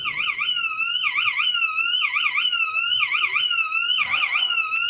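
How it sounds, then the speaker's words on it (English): An aircraft cockpit alarm in a flight simulator sounding a loud, repeating warbling electronic tone, pulsing about once per second, with faint background noise. "Now I have an alarm going off."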